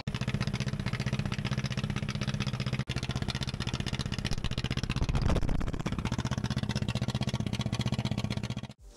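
Caterpillar D8 bulldozer pony engine running while warming up, a steady fast rhythmic chugging idle with metallic clatter, close and continuous for nearly nine seconds before cutting off.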